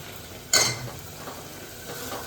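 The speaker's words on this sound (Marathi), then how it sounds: "आणि आता तेल सुटेपर्यंत मसाला परतून घेऊ." Spiced masala stir-fries in oil in a pan, with a sharp scrape of a spatula near the start, then a low, steady frying sizzle and faint stirring.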